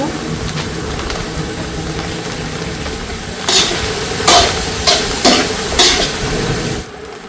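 Chopped onion goes into a pan with very little oil and is stirred and fried, giving a steady sizzle broken by several loud scraping stirs of a utensil against the pan, while a person talks over the cooking.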